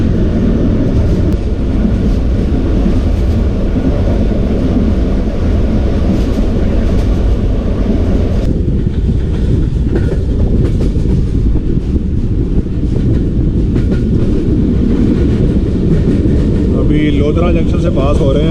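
The Jaffar Express passenger train rumbles along its route near Lodhran Junction, a loud, continuous rolling clatter of wheels and carriage noise with wind buffeting, the tone shifting partway through as the surroundings change.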